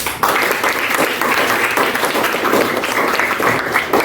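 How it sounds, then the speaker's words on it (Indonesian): An audience at a school academic supervision session breaks into applause: dense, steady clapping from many hands that holds at an even level for about four seconds. "Okay, give applause for you all."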